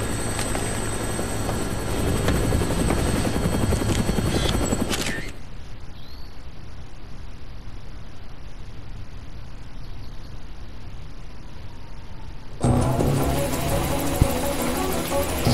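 A helicopter flies in the zombie video game Dead Rising, giving a steady droning rotor and engine hum that softens in the middle stretch and then swells back loud, with game effects mixed in.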